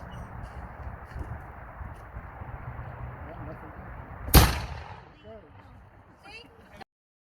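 A matchlock musket fires once with a single loud boom after a stretch of steady outdoor background noise, followed by a fading rumble and faint bird calls.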